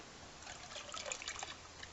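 Yeast mixture for homemade wine being poured, a soft close trickle and splash of liquid lasting a couple of seconds, quiet and alone.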